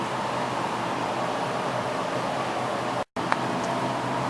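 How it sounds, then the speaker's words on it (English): Steady, loud arc hiss from welding a metal strap to a metal fitting for a Pietenpol aircraft center section, running unbroken for about three seconds before a sudden brief cutoff and a short resumption. "I'll weld this strap here to this piece here"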